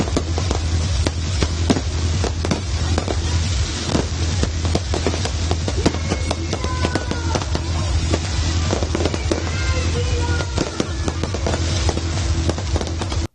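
Fireworks bursting at a Dussehra festival after the Ravana effigy is burned, a dense, continuous barrage of loud cracks and bangs with whistling rockets rising through the middle, all against a steady crowd rumble.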